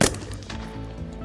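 Rifle gunshot from a Sig MCX Spear LT or LMT MRP 11.5-inch piston upper, a single sharp loud crack at the start followed by a ringing, decaying tail outdoors with no talk.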